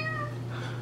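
A single drawn-out cat meow, loud and close, with a steady low hum underneath.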